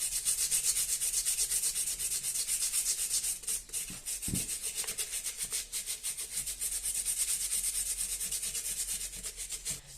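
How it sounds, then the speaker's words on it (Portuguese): Sanding the outer sides of a handmade cement plant pot, a steady close abrasive rubbing that continues for the whole stretch with rhythmic strokes and no talk. "Quanto mais você trabalhar, né, lixando aqui as laterais, melhor vai ficar o acabamento do final da sua peça"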